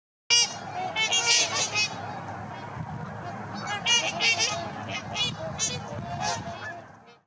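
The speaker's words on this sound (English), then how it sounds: "these vocal birds make a range of noises that sound like someone trying to blow through a trumpet filled with shaving cream" Trumpeter swans calling, a flock giving loud, nasal honking trumpet notes that overlap continuously, close and vigorous, with no one speaking.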